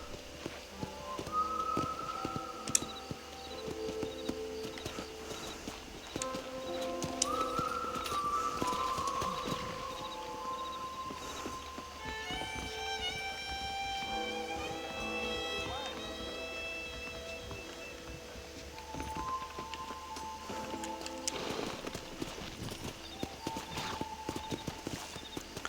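Horse hooves clip-clop steadily at a walking pace in the Western game Red Dead Redemption, mid-distance, mixed with game music and ambient sound and occasional brief talk.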